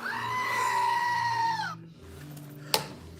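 A goat gives one long, loud, nasal bleat that wavers for over a second and then cuts off, followed by a quiet pause and a sharp click.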